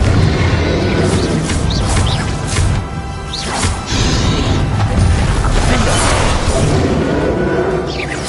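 Loud fiery blasts from the Confringo fire spell in Hogwarts Legacy, played on PS5, burst repeatedly over roughly eight seconds amid whooshes and crashing impacts of spell combat, with no talking.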